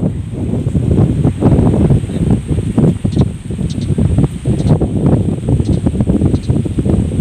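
Steady wind rushes over the microphone during a scenic motorbike ride toward Don Salvador Benedicto, with loud buffeting gusts and rumble throughout.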